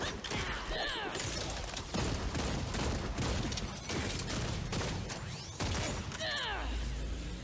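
A Gunslinger's shotgun skills firing in the Lost Ark video game, a dense barrage of loud blasts, impacts and whooshing effects repeating in rapid bursts.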